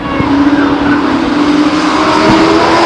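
Race cars start a four-car heat race at Stockton 99 Speedway, a loud, steady roar of engines close by with a brief tire squeal, under a faint voice.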